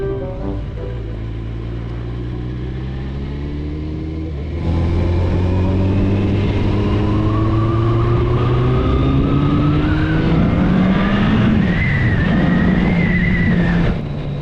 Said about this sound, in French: Non, c'est la voiture de mon voisin.